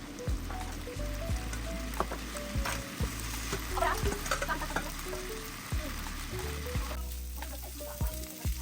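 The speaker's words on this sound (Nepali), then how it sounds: "चलाइरहेको छु" Pulao rice being stirred and fried dry in a pan at home, a steady close sizzle with repeated scraping strokes of the spoon running through the whole stretch, no voices.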